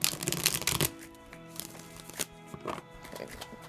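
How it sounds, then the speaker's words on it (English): Tarot cards shuffle in quick riffling bursts at close range, a loud flurry up front followed by quieter intermittent slides and flicks, with faint background music. "Okay, so first we're gonna shuffle these cards."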